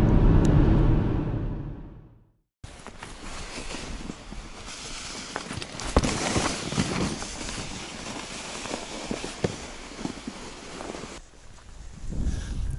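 A vehicle drives out across a frozen lake toward a deep bream fishing spot, a steady close rumbling road-and-wind noise that runs continuously for about ten seconds after a brief quiet start.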